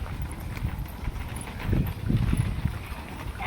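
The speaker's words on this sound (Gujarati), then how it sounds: "બળદ ગાડી આવે છે." A bullock cart approaches along a village road on a pilgrimage walk to Bhaguda in Gujarat. Its hooves clip-clop steadily and grow a little louder partway through, under a soft wind rumble.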